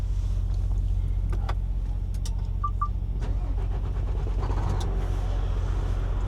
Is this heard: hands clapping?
no